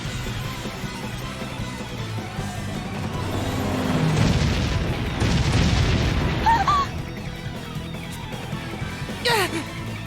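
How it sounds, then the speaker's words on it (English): Cannon fire in the Bravely Default video game: deep booms and rumbling blasts swell in the middle of the passage over a tense background score, fairly close and heavy. "Cannon fire?"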